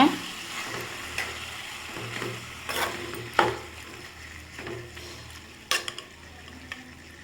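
Village-style chicken being stir-fried with onion and tomato, a low sizzle broken by repeated scraping and clacking of a spatula against the pan at an uneven rhythm, close and without speech.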